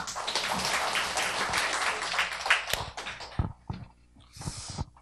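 Dense clapping from a crowd fills the first few seconds, then thins into scattered claps and small noises as it fades out.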